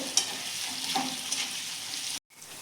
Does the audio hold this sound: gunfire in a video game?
no